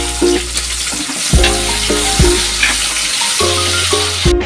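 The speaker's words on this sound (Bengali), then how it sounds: "এবার পেঁয়াজ দিচ্ছি।" Onions go into hot oil in a pan and fry with a steady sizzle, broken by stirring scrapes and knocks over a background of rhythmic music.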